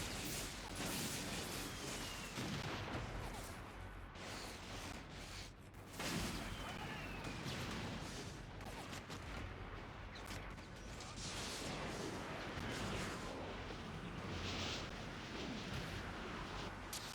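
Mortar fire and explosions in the Infamous 2 video game, a dense, continuous wash of booming blasts and rumbling combat noise, with a few sharper bursts mixed in.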